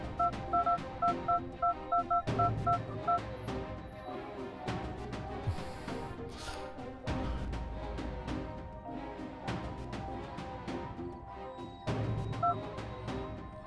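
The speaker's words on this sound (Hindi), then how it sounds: "उनका फोन तो रिंग हो रहा मगर कोई उठा नहीं रहा है" A telephone on the line rings repeatedly with no one picking up, a regular pattern of short tonal bursts early on, then the tones return faintly amid music-like percussive hits and background sound.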